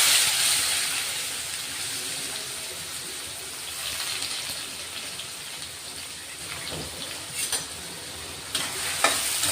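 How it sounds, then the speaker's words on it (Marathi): Finely chopped onions sauté in oil in a pan as a dense, steady, close crackling sizzle, with a few scraping stirs of a utensil near the end and no talking. "कांदे चांगले परतून घेणार आहे. छान मस्त गुलाबी रंग येईपर्यंत कांदे परतून घ्यायचे."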